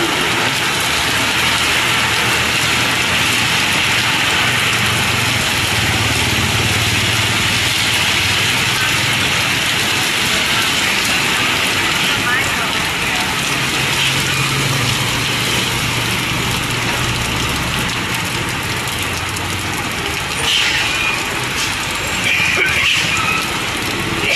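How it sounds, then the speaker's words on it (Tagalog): Heavy rain pours down steadily and loudly from start to finish, a dense continuous hiss with a faint low rumble beneath and a brief voice near the end. "ang lakas ng ulan."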